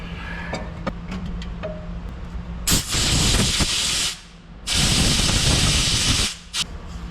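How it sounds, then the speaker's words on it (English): Brake cleaner is sprayed from an aerosol can during work on a wood processor, in two loud, hissing bursts of about a second and a half each, after faint workshop ticks and clicks. "clean it up a little bit more with some brake cleaner"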